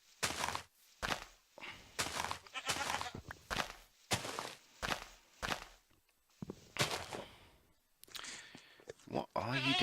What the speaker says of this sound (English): What are you doing, goat?